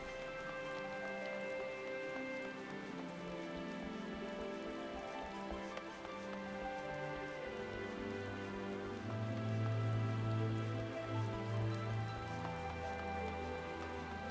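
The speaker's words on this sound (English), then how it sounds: "It rains here now? Like, I guess it's gotta rain." Steady rain falls in the Final Fantasy XIV game world, a soft, even patter with no pauses for the whole stretch. Low ambient tones hum beneath it and no one speaks.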